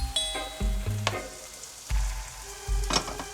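Bread sizzling in oil in a frying pan, with steady crackling and a few sharp scraping stirs of a utensil, close and fairly loud with no voices.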